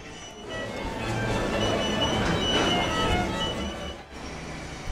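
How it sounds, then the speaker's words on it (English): A metro train ride in an Eastern European city, with a steady broadband rumble of wheels on rails and carriage noise throughout. It swells in the middle and dips briefly near the end, with no talk. "And then onto the metro for a short ride"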